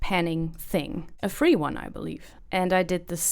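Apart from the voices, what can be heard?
No everyday noises stand out.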